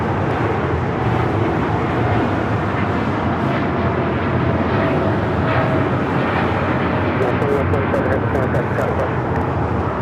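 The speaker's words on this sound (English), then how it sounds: "That is United Airlines 2127 taking off to Newark on the 787-9 Dreamliner" A United Airlines Boeing 787-9 Dreamliner takes off, its jet engines a loud, sustained broadband roar filling the whole stretch at close range, with faint voices in the background.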